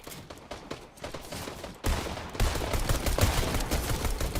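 Dense rapid gunfire from a player's main weapon in a video game, a continuous loud fusillade of shots that grows heavier partway through, with no talk over it.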